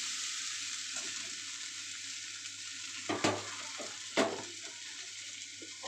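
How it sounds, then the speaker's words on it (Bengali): Rice frying in a pan for khichuri with fennel paste, a steady broadband sizzle with a couple of sharp stirring scrapes partway through, close and continuous with no talking. "এবার চালটা ভালো করে ভেজে গন্ধ বেরোনো অবধি ভাজতে হবে।"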